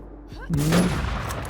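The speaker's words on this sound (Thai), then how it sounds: "เขายิงกันให้บึ้มบั้ม" Gunfire bursts out in a shooter video game, a loud sudden volley after a brief quiet start, with a voice speaking over it.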